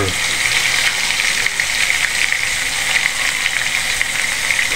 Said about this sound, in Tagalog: sinalang na po. Sa kumukulong mantika.